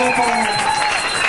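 A church congregation at a spiritual warfare seminar applauds and cheers loudly and steadily, a dense wash of clapping with raised voices blended in throughout.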